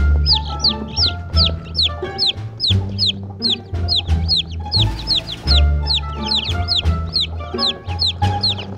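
Chicks cheeping over and over in fast, high, rising chirps, dense and close, over a low rhythmic thumping musical backing.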